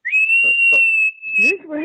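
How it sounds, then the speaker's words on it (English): A high, steady whistling tone from a kettle holds for almost two seconds, like a kettle coming to the boil, with brief voices murmuring underneath. "That's a kettle in St Andrews."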